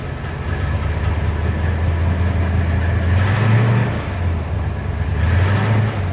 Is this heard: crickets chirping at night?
no